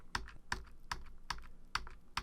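Six evenly spaced, crisp computer keyboard taps, the Control-Z undo shortcut pressed repeatedly at a steady rhythm, close and distinct with no talk.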